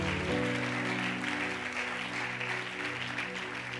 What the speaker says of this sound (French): Acclame très fort là où tu es.